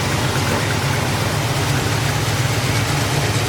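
A 1985 Chevrolet C10 engine with a new alternator runs steadily at idle, a loud, even low rumble with a constant hum and no voices.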